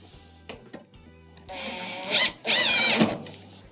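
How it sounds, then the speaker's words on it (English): A screw is driven back into a dryer panel during a drive motor repair, with a few faint clicks and then two short, close bursts of power-driver whirring. "Once you have it into place, we will reinstall the screw."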